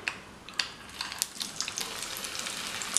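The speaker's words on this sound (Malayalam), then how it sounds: "ചൂടായ എണ്ണയിലേക്ക് നമുക്ക് തയ്യാറാക്കി വെച്ചിരിക്കുന്ന ഓരോ വടയും ഇട്ട് ഫ്രൈ ചെയ്തെടുക്കാം" Oats vadas bubble and sizzle in hot oil in a pan, a steady crackling fry with sharp little pops scattered throughout, close up and without talk.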